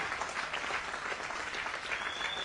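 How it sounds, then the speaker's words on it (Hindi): An audience at a marketing seminar gives sustained applause for a professor and a doctor, a dense, even wash of many hands clapping at moderate distance without a break. "जोरदार तालियां होना चाहिए प्रोफेसर साहब और डॉक्टर साहब के लिए"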